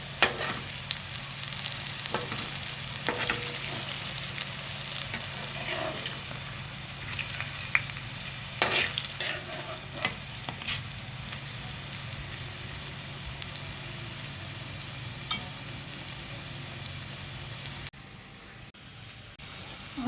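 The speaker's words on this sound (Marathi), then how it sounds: "अजूनही आपल्या वड्या तळतात आहे" Alu vadi, spiced colocasia-leaf rolls, frying in hot oil in a pan with a steady close sizzle, broken by occasional scrapes and clinks of stirring and turning, running without voices until it fades near the end.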